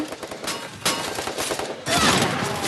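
Rapid bursts of video game gunfire fill the clip, with dense back-to-back shots and a louder volley near the end.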